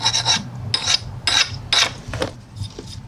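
A file rasping burrs off a freshly sharpened blade, five or six short scraping strokes in a steady back-and-forth rhythm, close and crisp with quiet gaps between.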